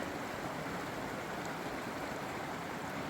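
A mountain creek in the Great Smoky Mountains rushes beneath a trail bridge, a dense, even roar of flowing water heard up close without any talk.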